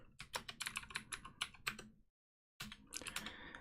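Rapid clattering keystrokes on a computer keyboard while editing a shell script, typed in close, steady bursts that pause briefly for about half a second before resuming.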